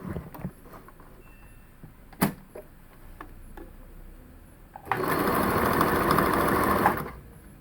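A sewing machine stitches a blouse, a loud steady mechanical whir running for about two seconds near the end after a few quiet handling taps and clicks.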